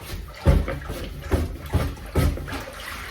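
Tap water runs and gurgles in a kitchen sink while a plunger clears blocked waste pipes, with four loud rhythmic sloshing surges over the steady flow.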